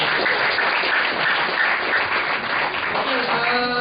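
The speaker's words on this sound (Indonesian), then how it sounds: "kasih tepuk tangan untuk Pak Wibi." Audience applause at an indoor business gathering, a dense continuous wash of many hands clapping that holds steady and fairly loud for several seconds.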